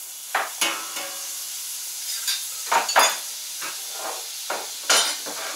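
Thick-cut potatoes frying in canola oil and butter on a Camp Chef FTG600 flat top grill, with a constant hiss and sizzle broken by repeated bursts of scraping and crackle as the pieces are turned, close up.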